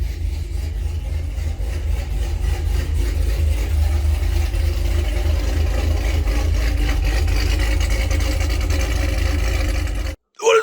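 A Cadillac CTS-V's LT4 V8 engine idles steadily with a low, even rumble while warming up after a transmission rebuild, cutting out abruptly near the end.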